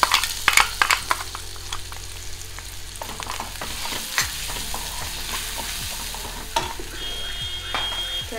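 Garlic and other ingredients frying in a pan while being stirred, a continuous close sizzle broken by scraping stir strokes and occasional clinks, loudest at the start and settling into a steady hiss.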